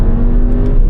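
Car engine at full throttle during a straight-line pull, a loud close steady roar that holds for about a second with no talking.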